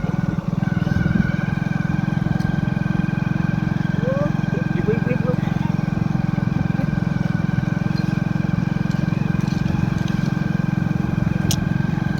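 A motorbike rides steadily along a road on a journey, its engine drone continuous and close throughout, with a voice talking over it.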